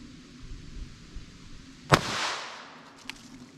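A single sharp .22 Long Rifle shot fired into four layers of denim over quarter-inch MDF, one crisp crack followed by a brief airy tail and a faint later tick, fairly quiet overall.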